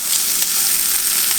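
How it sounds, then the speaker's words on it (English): Cooked ham sizzling as it warms in melted butter in a pan, a steady, dense, close hiss that holds level throughout with no talk. "once that is melted, we're just going to put some ham in there"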